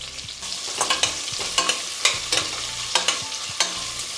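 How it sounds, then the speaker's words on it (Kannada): Chopped white onions frying in a hot pan, a steady sizzle broken by repeated scraping stirs at an uneven rhythm, close and fairly loud with no talking. "ಬಿಳಿ ಈರುಳ್ಳಿ ಹಾಕೊಳ್ಳೋಣ, ಕಟ್ ಮಾಡಿರೋದನ್ನ"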